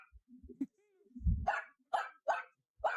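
A dog barks on command, giving four sharp, close barks in a quick, even series after some brief whimpering yips.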